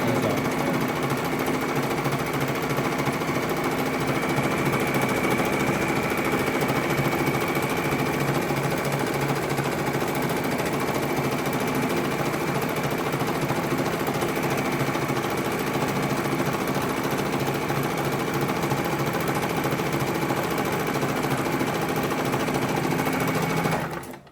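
A home sewing machine runs a steady zigzag stitch, a loud continuous mechanical whir with a fast even rattle that holds for about twenty-four seconds alone and then stops.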